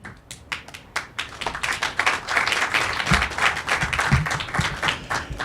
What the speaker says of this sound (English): It's always nice when the secretary's the first one to clap.